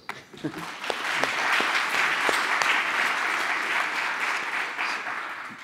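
Audience applause fills the room after a conference talk on cybersecurity, a steady dense wash of many hands clapping for several seconds, fairly close, with a few voices faintly mixed in.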